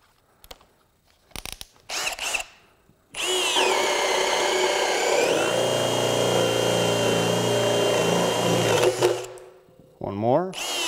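A Ryobi 18V ONE+ HP brushless 1/2-inch hammer drill, model PBLHM101B, bores a 1¼-inch hole on speed 2. A few clicks come first, then a loud, steady motor whine for about six seconds that drops in pitch under load before winding down.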